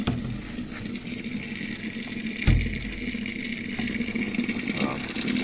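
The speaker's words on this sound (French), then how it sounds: "Ça c'est le premier rinçage avec Javel." A new Brandt washing machine runs its first rinse with bleach, water gushing and splashing steadily inside the drum, with a brief thump partway through and no talk.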